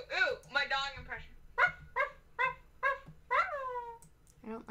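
A man imitates a dog with his voice, giving a run of about eight short, separate bark-like yips and woofs in steady rhythm, close to the microphone.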